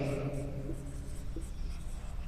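A pen or chalk scratching out a definition during a physics lesson on reflection of light, with short continuous strokes close by and a faint voice in the background.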